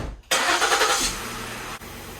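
A Ford Explorer engine cranks and catches with a loud burst, then settles into a steady idle after strut mount replacement, recorded close up from a microphone on the strut.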